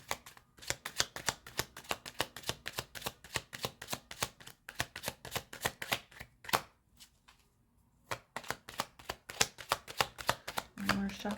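Rapid crisp riffle-shuffles of a tarot deck, bursts of fast flicking card snaps with a short pause midway, close and fairly quiet, with no voices.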